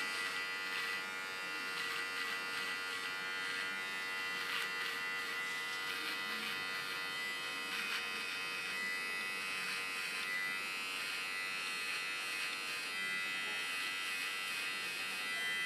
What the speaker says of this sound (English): Again, I take my small clipper, start with my first line.